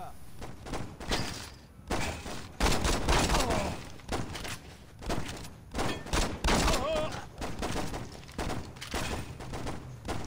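Gunfire in the Saints Row video game, repeated bursts of shots and short volleys over about ten seconds at moderate level, with someone speaking between and over the shots.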